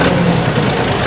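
A John Deere 5310 CRDi 4WD tractor with a turbocharged diesel engine runs steadily nearby, a low, even engine rumble with no voices.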